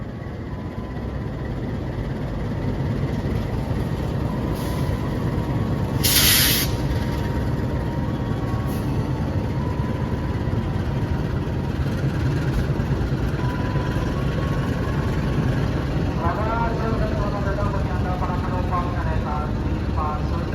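A KA Pangandaran passenger train departs Tasikmalaya station, a steady low rumble and engine drone rolling on continuously, with a brief hiss and faint voices in the background.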